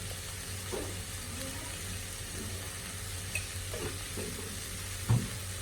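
Beans frying in a pan with a little oil and coriander powder, stirred with a few soft scraping strokes over a low, steady sizzle and a faint hum, with one sharper knock near the end.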